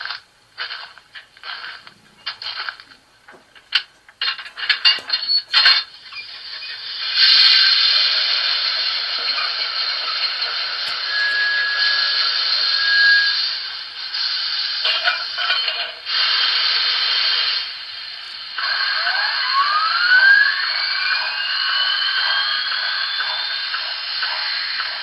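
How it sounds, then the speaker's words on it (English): A BLI T1 duplex steam model locomotive starts up with a few short clicks, then a steady, loud hiss of sound-system steam that holds and pulses, with rising whistle-like tones near the end. "let's start with starting up the locomotive by pressing F9"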